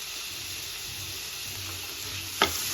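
Chopped tomato hits frying cauliflower gravy with a soft, steady sizzle throughout, then a single sharp utensil clink near the end, with no talking.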